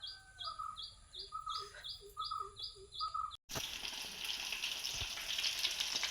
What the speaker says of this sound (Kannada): ನಾನು ಮೀನು ಫ್ರೈ ಮನ್ಪೆ